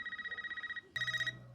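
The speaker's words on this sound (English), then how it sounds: "So the movie starts off with a phone call" A telephone rings in the opening of the horror film Scream 5, two bursts of a bright electronic warble with fast pulsing repeats, separated by a brief gap and played loudly on its own.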